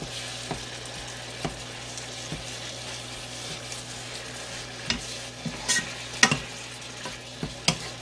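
Garlic stir-fried in a pan with mirin while cooking braised sea squirts, a constant soft sizzle under scattered spatula scrapes and taps that grow busier toward the end, close by, no talking.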